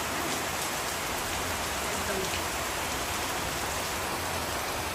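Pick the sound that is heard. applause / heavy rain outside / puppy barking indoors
heavy rain outside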